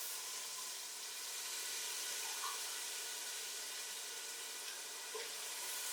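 Water poured into a cooking pot for chickpea rice pulao makes a faint, steady hissing splash that runs on unbroken.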